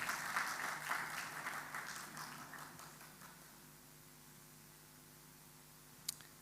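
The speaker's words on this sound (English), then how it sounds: "Let's a round of applause," Audience applause at a gas distributors' business forum, a burst of crowd clapping that fades quickly into quiet room noise, with a single sharp tap near the end.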